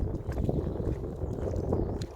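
Strong wind on a golf course roars against the microphone in a continuous, close, blustery rush with small rises and dips and no clear pauses.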